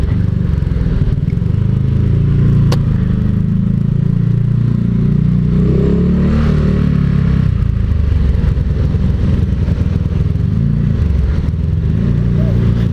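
A motorcycle idles close by, then turns around and pulls away with a gentle, low engine drone. A muffled rumble and light clatter continue steadily throughout with no strong revving.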